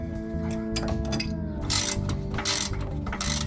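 Ratchet tightening a front upper control arm bolt on a Jeep, rapid clicking pawl strokes in several bursts over a constant mechanical hum, close and loud, with no talking.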